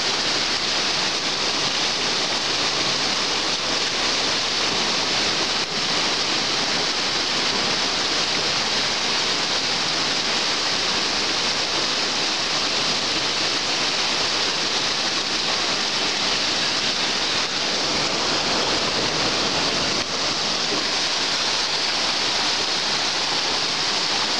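Floodwater from a rising river rushes along Aricanduva Avenue in 2016, a steady, dense roar of churning water that stays loud and unbroken throughout, with no voices over it.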